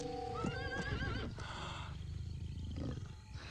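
A loud horse whinny rises and falls near the start, followed by snorting and shuffling hooves.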